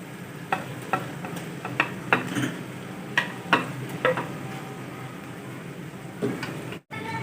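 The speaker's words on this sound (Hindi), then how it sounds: "चार से 5 मिनट के लिए अच्छी तरह से फ्राई कर लेंगे।" Fried eggs stirred into masala in a pan for Dhaba-style anda curry: a steady low sizzle under a string of sharp clinks and scrapes from a spoon against the pan, close up with no talk.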